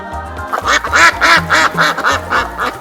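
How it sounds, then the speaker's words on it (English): A duck quacks repeatedly in a quick, even series of about eight loud, nasal calls, close and clear over a low background beat. "duck,"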